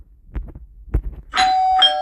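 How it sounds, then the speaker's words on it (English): A doorbell in the Roblox video game rings with a two-note electronic chime, a clear ding followed by a second tone, loud and close, after a few soft thumps. "here's the doorbell"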